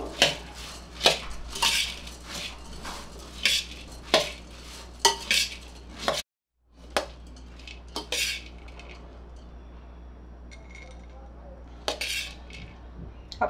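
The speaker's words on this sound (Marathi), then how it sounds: "मी ना थोडंसं मोठं भांडं घेते, म्हणजे मला कालवायला सोपं जाईल." Karnataka-style girmit bhel, a puffed-rice snack, being tossed in a large pot, with repeated metal clatters and scraping of a spoon against the pot in irregular bursts, close and fairly loud, with a brief silent gap midway.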